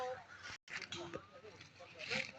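Chickens, both roosters and hens, cluck and call against a busy, noisy farmyard background, with faint voices mixed in.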